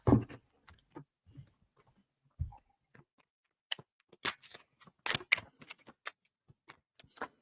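Tarot cards being shuffled in irregular bursts of quiet crisp riffling and tapping, with sparse pauses between flurries and no talking.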